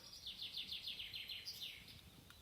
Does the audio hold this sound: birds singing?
yes